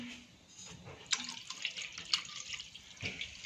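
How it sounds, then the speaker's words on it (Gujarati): Two glasses of water poured into a cooking pot of quinoa upma base with turmeric, a close, moderately loud splashing pour with small clinks, no talking. "બે ગ્લાસ પાણી એડ કર્યું છે"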